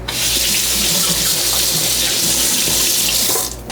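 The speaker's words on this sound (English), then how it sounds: "I have to wash the cheese off my hands" A kitchen tap runs steadily while cheese is washed off hands, a close, full rush of water that lasts nearly four seconds before tapering off at the end.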